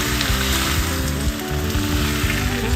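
Marinated chicken pieces fry with onions in a hot pan, giving a loud, dense, continuous sizzle with crackling spits and occasional scraping, heard close up without voices.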